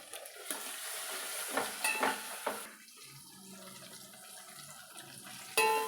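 Tomatoes fry in a pan for a Nellore-style fish curry, with a soft sizzle and a few scraping stirs of a spoon, fairly faint and close, with no talking.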